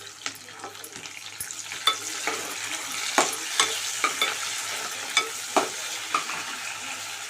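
Sliced onions and curry leaves frying in hot oil, a steady close sizzle broken by repeated crackles and spoon scrapes at irregular intervals.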